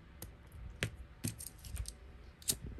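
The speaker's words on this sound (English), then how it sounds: "I'm gonna go ahead and snip this off." Scissors snip through beading thread on a beaded badge reel, several short sharp cuts spread across a quiet background, close and crisp with no talking.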